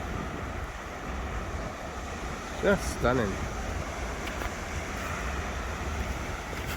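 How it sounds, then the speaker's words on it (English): Wind gusting high on a Cornish coastal walk, a constant low roaring rumble against the microphone with distant surf, and a brief spoken remark partway through. "We're quite high up at the moment, hence the wind."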